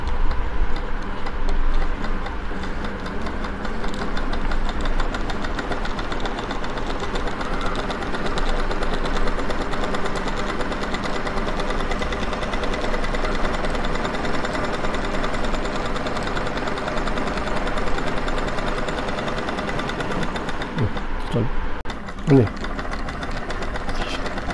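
A zig zag pico sewing machine stitches in a continuous, steady mechanical whir with fast rhythmic ticking, close and fairly loud, with a few sharp clicks near the end as the stitching slows.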